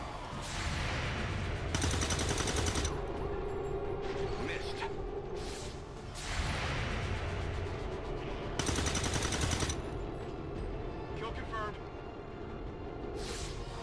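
Bursts of rapid reaction gunfire from the XCOM tactical game, loud sustained volleys with a pause between, while voices talk over the shooting.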